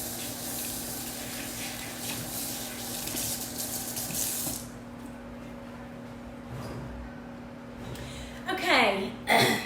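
Tap water runs steadily into a sink while hands are scrubbed in a home kitchen before baking Scottish shortbread, with louder splashing at first that settles into a quieter flow, then brief sloshing near the end.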